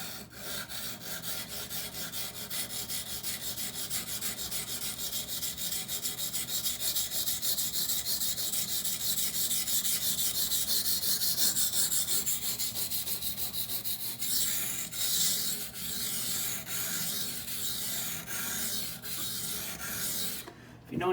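A Benchmade Bugout knife with a 20CV blade scraped steadily across a coarse, textured Norton water stone, giving a continuous loud gritty rasping with stroke rhythm, changing character midway, with no talk.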